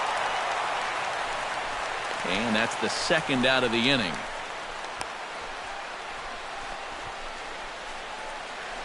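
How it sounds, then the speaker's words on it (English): Stadium crowd in MLB The Show 16 swells into a rising ooh for a few seconds over steady broadband crowd noise, then settles back, with an announcer calling the play. "This crowd oohs and ahs every time this guy hits a fly ball"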